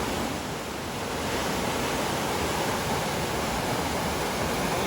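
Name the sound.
waterfall rushing water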